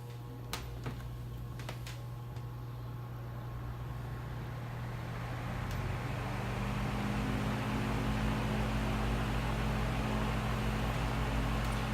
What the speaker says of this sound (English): All you really hear is the blade sound, and it seems to run really consistent.